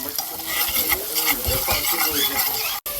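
Garlic and onions frying in hot butter while a spoon stirs through the pan, a dense close sizzle with rhythmic scraping and light metal clinks, no one talking.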